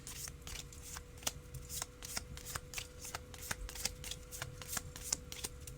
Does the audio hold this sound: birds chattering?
no